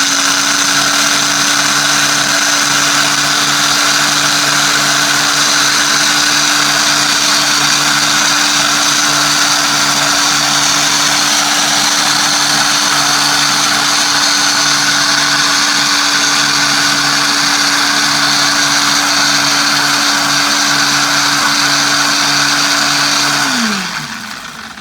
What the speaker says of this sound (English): you can see how I'm going to blend it in this Ninja blender